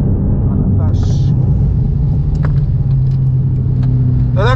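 Car accelerating hard on a race track, a loud continuous engine roar with rising tones and wind buffeting from inside the car, joined by brief clicks and squeaks, with no talk.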